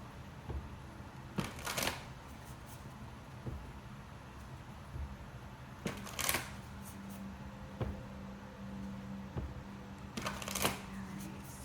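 Cards are riffled and shuffled in several quick bursts, spaced a couple of seconds apart, close by against a quiet background.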